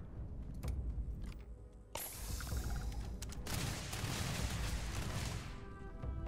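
Single-fire gunshots sound in the video game Starfield as a few sharp, separate cracks, with a noisy crashing burst in the middle section and no voices.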